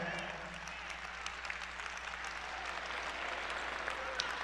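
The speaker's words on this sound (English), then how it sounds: "You can clap for that." Steady, fairly faint applause from a graduation ceremony audience at McCluer High School, dense and even throughout with a low background hum and some mixed-in talk.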